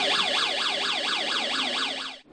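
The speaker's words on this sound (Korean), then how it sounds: "문 앞에 놓여진 발판을 밟자 경보음이 울리며 비상등이" A student-built electronic security circuit triggered by a floor mat sounds a loud, rapidly warbling electronic alarm that repeats its rising-falling sweep evenly, then cuts off abruptly.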